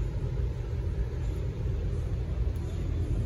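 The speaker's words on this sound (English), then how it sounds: "I'm going to reach up here and I'm going to actuate the throttle cable" Stihl string trimmer engine held at steady high revs as its throttle cable is pulled by hand, a loud continuous close-up drone with no pauses.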